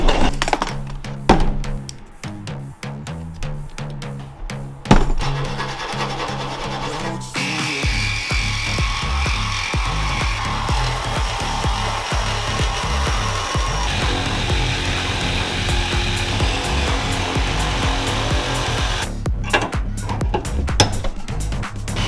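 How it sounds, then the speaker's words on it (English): A Dremel rotary tool with a small cutting wheel trims tight corner pieces during a dual cab canopy installation, giving a steady, close, high whine that runs for most of the stretch after some intermittent handling noise. "The Dremel with the little cutting wheel is really useful"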